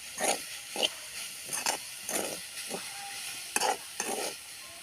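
Pumpkin leaves being stirred and fried with grated coconut in a village-style kitchen pan, a series of scraping stirring strokes over a soft sizzle, close and moderately loud, with no talking.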